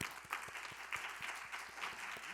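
Audience applause at the final round of a youth speech contest in a National Assembly hall, a steady wash of many hands clapping, fairly quiet and even throughout.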